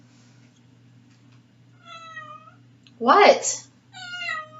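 A pet cat meows several times in a row, with a loud, drawn-out yowl in the middle, close by, after a brief spoken word over a low steady hum.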